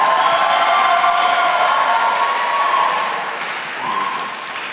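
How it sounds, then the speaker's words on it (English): Wedding reception guests at Vibiana in Los Angeles applaud during a toast, a steady, dense round of clapping with some cheering that stays loud, dips slightly toward the end and then swells briefly again. "yes, hold for applause"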